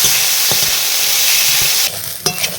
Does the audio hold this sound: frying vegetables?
yes